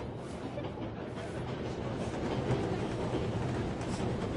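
A train rolling steadily along the tracks in the video game 11-11 Memories Retold, a continuous low rumble with a faint rhythmic clatter, even and moderately loud throughout.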